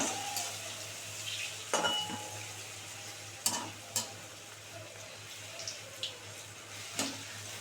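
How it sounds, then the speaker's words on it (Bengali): Lata fish and lentil fritters fry in a pan as they are turned over, a soft steady sizzle broken by a few sharp clinks and scrapes of the utensil. "এবার এই বড়াগুলো উল্টে দিই কি সুন্দর ভাজা হয়েছে বড়াগুলো দেখেছ"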